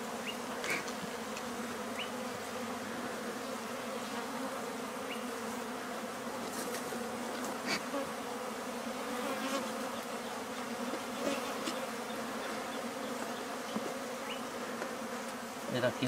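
Bees swarm and buzz steadily around a large wild honeycomb built among tree branches during a bee rescue, a dense continuous hum at close range with faint background sounds and no talk.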